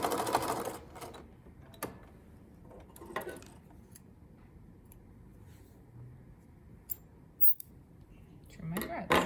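A sewing machine back stitches a seam on a garment in short quiet bursts of rapid mechanical ticking, separated by clicks and pauses, fairly faint and close.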